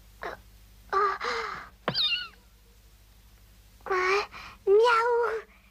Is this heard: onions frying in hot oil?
no